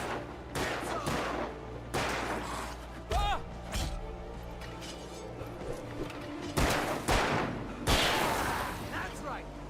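Gunfire in the Alan Wake video game cracks out in several loud, sharp bursts spread across the clip, with a voice talking between the shots.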